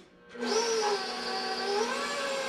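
An electric hand mixer switches back on in banana cake batter, a steady close whirring drone with a rising start that holds level, slight pitch wavering as it runs.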